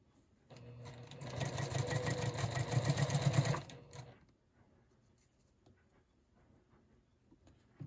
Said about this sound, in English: Stitch all the way across.